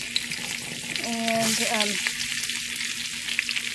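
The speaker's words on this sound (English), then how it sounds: "I'll let them warm up and cook a little bit in the bacon fat" Green beans and cabbage sizzle steadily in bacon fat in a pan, a constant close frying hiss with a brief spoken word and a short tonal squeak partway through.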